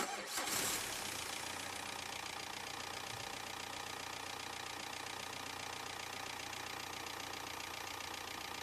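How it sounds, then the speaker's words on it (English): A car engine undergoing gasket repair cranks and catches almost at once, then settles into a steady, close idle with a faint knocking texture and no voices. "start the engine."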